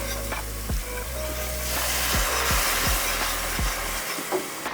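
Cream being whisked into a bubbling, pasty roux in a pan, with a steady sizzling hiss and a few soft rhythmic whisk strokes close by, fading out at the end.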